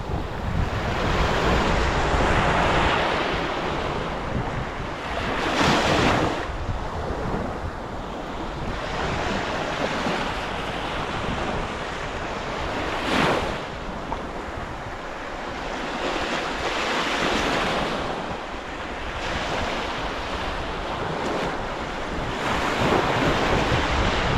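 Sea waves roll onto the beach by the Łeba dunes in Słowiński National Park, Poland, a loud, continuous surf with heavy wind buffeting the microphone and periodic swells of breaking water; no one speaks.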